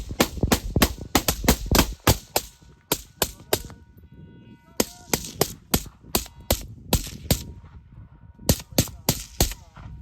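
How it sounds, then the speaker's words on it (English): Rapid bursts of suppressive rifle fire during a woodland night assault training exercise, loud sharp cracks in quick volleys and strings with brief pauses, close by and dense throughout. "suppress fire, heavy suppression now."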